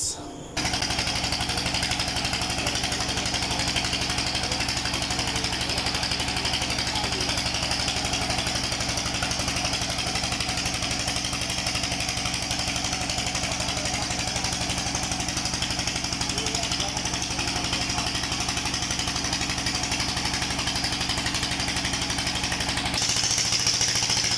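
A motor-driven machine drilling a 700-foot borehole, with water pumped around through pipes, drones loudly and continuously at close range, with a rapid hammering rattle that barely changes throughout.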